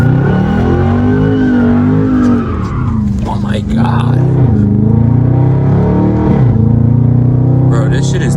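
Loud engine of a Dodge Charger Scat Pack revving hard as the car slides through a corner, its pitch rising and dipping with tire squeal, while a person exclaims over it.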